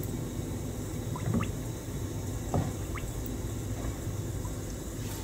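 A removed part of a Philips LatteGo 5400 coffee machine sits submerged in water, releasing small bubbles that pop and gurgle in a few soft scattered bursts over a low steady background.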